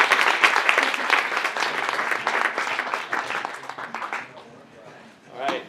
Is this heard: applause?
yes